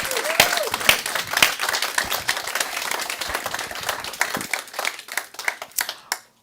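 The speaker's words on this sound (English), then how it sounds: "Let's give her a round of applause." A crowd applauds, dense steady clapping that continues for several seconds before tapering off into a few scattered claps.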